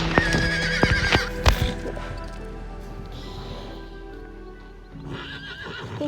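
A horse in the online riding game Star Stable Online lets out a loud whinny near the start, followed by a run of rhythmic hoofbeats that fade and then pick up again at the end.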